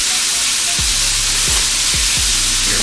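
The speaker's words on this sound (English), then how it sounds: "you want to make sure that you stir it around. We want to brown it. You don't want to burn it." Beef tips brown and sizzle loudly in a hot pan, with a steady close frying hiss and a few soft thumps as the meat is stirred around.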